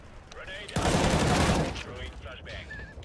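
Gunfire in a video game shootout, a dense burst of rapid shots lasting under a second, framed by quieter game sounds and chatter before and after.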